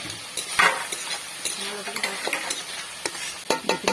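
Spice paste mixed with bottle gourd cooking water fries and is stirred in a pan for a lauki kofta curry, a steady sizzle broken by several sharp scrapes and clacks of the spoon.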